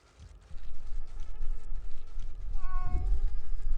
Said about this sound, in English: Oh, I hear a cat.